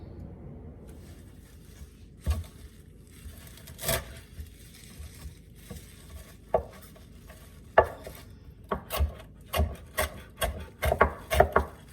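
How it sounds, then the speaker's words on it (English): Knife chopping parsley and onions on a cutting board: sparse sharp taps at first, then quicker, irregular bursts of chopping close by, with faint kitchen clatter. "Now I'm going to chop up my parsley and my onions."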